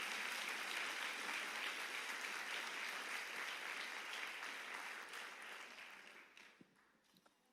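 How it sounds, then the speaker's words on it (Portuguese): Congregation applause at a women's church conference, a broad steady wash of clapping that holds for about six seconds, then thins out and fades to near silence. "aplauda ao Senhor."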